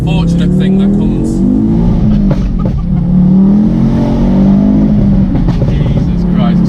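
A modified 400bhp Ford Focus RS with a five-cylinder engine revs hard nearby, its throaty, harmonic roar rising and falling in loud, continuous swells.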